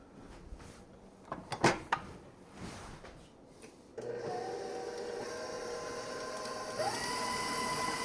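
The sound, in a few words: electric mixer creaming sugar for vanilla buttercream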